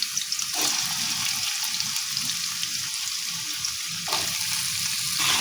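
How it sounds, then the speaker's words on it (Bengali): Chopped potatoes, four or five of them, hit hot oil with cumin and fry with a loud, dense hiss and crackle that runs continuously up close, surging twice as more pieces go in. "এখন এর মধ্যে দিয়ে দিচ্ছি 4-5টা আলু আমি এইভাবে কুচিয়ে নিয়েছি, তেলেতে দিয়ে দিচ্ছি।"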